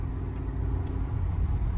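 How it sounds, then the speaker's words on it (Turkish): Wind and road noise fill the cabin of a BMW E36 while driving, with worn door seals letting in a steady low rumble and hiss, moderate and continuous, and no one talking. "Her taraftan rüzgar sesi, yol sesi her şeyi alıyorum."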